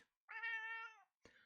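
A single long, clear cat meow lasting under a second, close and loud, followed by a brief short chirp-like cat vocalization; no talking.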